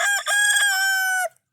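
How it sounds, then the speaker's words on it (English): A rooster crows loud and close, one long harmonic cock-a-doodle-doo lasting over a second after a brief opening note, from chickens roosting up in a tree on a two-acre homestead. "a bunch of chickens up in the tree there."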